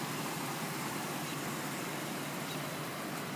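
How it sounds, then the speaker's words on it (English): A 2003 Ford F-150 XLT pickup engine runs at a smooth idle, a faint, even broadband hum that stays constant throughout with no voices. "Engine sounds good, transmission sounds good."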